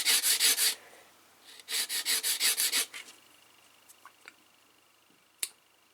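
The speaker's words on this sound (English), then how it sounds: "you might just want to sand that and make it flat" A pastel pencil tip is sanded flat into a chisel shape, heard as two bursts of quick, rhythmic scratchy rubbing strokes, close and fairly soft, followed by a few faint taps and quiet handling.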